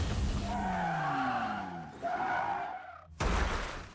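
A racing car in the film Ferrari skids with squealing tires and a roaring engine, then hits with a sudden loud crash near the end, with no talking.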